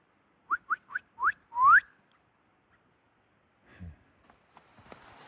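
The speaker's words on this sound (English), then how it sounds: "I think there was a gray jay whistling." A gray jay gives a short series of clear whistles, four quick notes then a longer rising one, close and distinct, followed by faint rustling, near Boundary Peak in Kananaskis.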